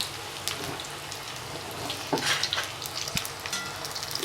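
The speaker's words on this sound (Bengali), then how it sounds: "আমার গরম হয়ে গেছে, এর মধ্যে আমি দিয়ে দিলাম বেগুনগুলো কেটে" Sliced eggplant for beguni drops into hot oil and fries, giving a steady crackling sizzle with scattered louder pops, close and moderately loud, without speech.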